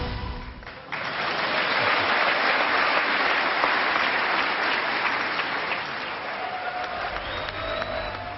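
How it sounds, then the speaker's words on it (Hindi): A full chamber of US lawmakers in Congress bursts into applause for Prime Minister Modi, a broad, sustained roar of many hands that swells sharply after a quieter opening and holds steady throughout. "एक बार फिर पूरा सदन तालियों से गूंज उठा"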